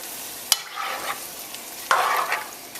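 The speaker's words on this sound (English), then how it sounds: "Give it a good stir" Caribbean stew chicken with tomatoes, onions and green onions being stirred in a pot, a spoon clacking against the metal twice amid short scraping and sizzling swirls, close and fairly quiet.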